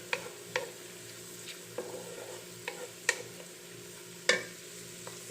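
Onions lightly frying in a pan while making white chicken pulao, with a steady soft sizzle beneath intermittent scrapes and taps of a spoon stirring against the pan, fairly close and moderately quiet.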